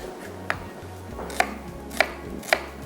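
A knife dices an onion on a cutting board for makhni bhindi handi: four crisp, spaced chops land close and clear over a low steady hum from the kitchen.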